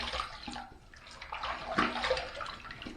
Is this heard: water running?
yes